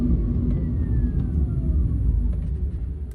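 Inside an Electra Meccanica SOLO electric car driving on hilly side roads, a faint, rising whine from the electric motor drifts over steady low road rumble, with no talking.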